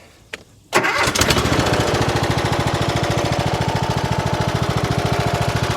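A neglected Cub Cadet riding mower cranks briefly with a couple of starter bursts, then its engine catches and settles into a loud, steady, throbbing run close by.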